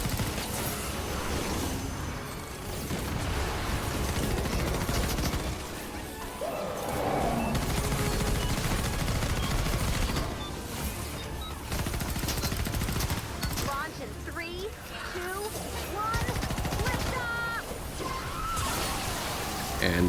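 Rapid bursts of gunfire from the Grave Digger weapon in Fortnite, with crashes and whooshes in a busy game mix, while a person talks over the action throughout.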